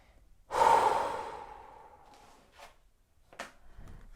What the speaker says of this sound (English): I'm seriously breathing like that.